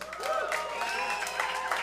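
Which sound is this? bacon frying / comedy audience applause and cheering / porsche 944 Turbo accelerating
comedy audience applause and cheering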